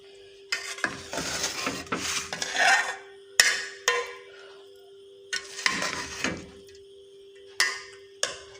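Cooked rice being mixed in a pot with a spoon, heard as bursts of scraping and soft clattering strokes separated by short pauses, close and moderately loud over a faint steady hum, with no voices.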